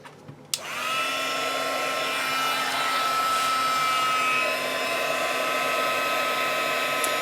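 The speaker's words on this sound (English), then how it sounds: "you notice when I'm using the heat tool that I lift my project off the surface" A heat tool blows hot air steadily to melt embossing glaze on a craft project, a loud continuous whoosh with a faint whine that starts abruptly after a brief click and runs unbroken.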